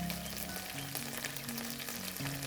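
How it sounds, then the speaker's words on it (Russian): Chicken pieces fry in a single layer in a hot pan over medium heat, giving a steady, quiet sizzle close by with no voices. "Жарим курицу на среднем огне около 5 минут."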